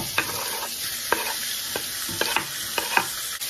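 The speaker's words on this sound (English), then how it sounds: "Heating up some oil in my iron skillet" Oil heats in a large cast iron skillet, a steady close sizzle carrying throughout with a few sharp stirring clicks and scrapes scattered through it, no talking.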